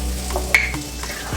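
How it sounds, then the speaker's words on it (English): Chaffle batter sizzles on the ghee-sprayed plates of a waffle maker with a steady, faint hiss, broken by a few soft clicks and light scraping sounds. "Do you hear that sizzle? It's cooking."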